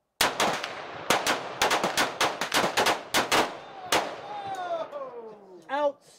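Rifle gunfire cracks out at an outdoor shooting range in a rapid, irregular volley of sharp, loud shots from several shooters. The firing then stops and a voice speaks.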